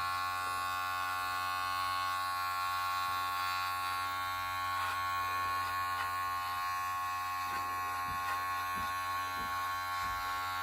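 Electric hair clippers buzz steadily and close while cutting a skin fade, a constant mains-like hum with faint ticks as the blades move through hair.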